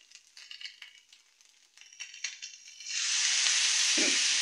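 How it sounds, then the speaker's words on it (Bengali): Eggs frying and being stirred in a pan while noodles are cooked at home, with a loud, steady sizzle swelling in after softer scraping and stirring sounds, close by and continuous. "এখন ডিম দিয়ে দিচ্ছে, দিয়ে নাড়াচাড়া করতেছে"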